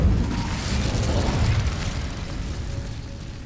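A fire spell cast in the Hogwarts Legacy game, heard as a loud whooshing burst of flame that fades into a steady rumble over a few seconds, with no talking.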